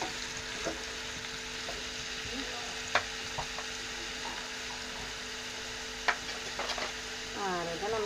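Onions sizzle steadily in a hot pan, a soft continuous frying hiss with a few light clinks and scrapes of stirring scattered through, close and fairly quiet.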